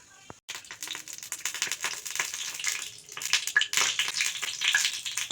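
Ghee heats in a kadhai before moong dal goes in for sheera, crackling and sizzling in a quiet, busy patter of tiny pops that swells slightly after a brief pause near the start.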